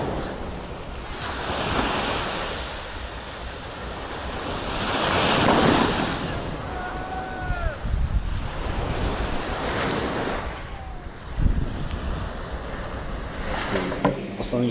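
Sea waves on a Black Sea beach at Gelendzhik in winter, rolling in and breaking in slow surges with strong wind buffeting the microphone and a few faint distant cries.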